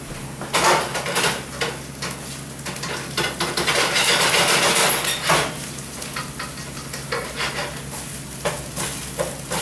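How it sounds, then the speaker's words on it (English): Onions being stirred in a pan for beef goulash, a steady sizzle with repeated scraping and clinks of a utensil against the pan, close and fairly loud with no talk. "I'm still stirring my onions at the moment."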